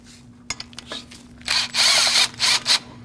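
A power tool or ratchet works the H5 Allen rotor bolt on the front brakes of a 2014-2023 Jeep Cherokee. A few short clicks come first, then loud whirring bursts of the tool spinning, close up and without talk.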